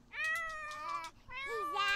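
A cartoonish cat in the game My Little Sims lets out two clear, close meows in quick succession, the second with a rising and falling wobbly pitch.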